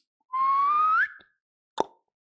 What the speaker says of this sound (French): J'aime bien siffler, faire des bruits avec ma bouche en mode sifflement